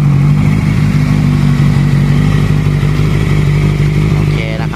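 A 650cc motorcycle engine idles close by, a loud, steady low throbbing hum that stays even with no revving and no voices.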